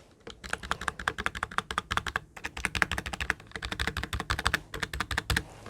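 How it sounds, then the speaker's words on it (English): Hard, fast typing on an NPET K10 membrane gaming keyboard: dense bursts of close, muffled key taps in an irregular rhythm, with a few short pauses and no talk. "because it's a membrane keyboard, it's kind of silent."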